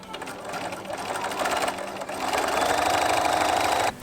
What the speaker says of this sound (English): I'm just gonna sew the sides together.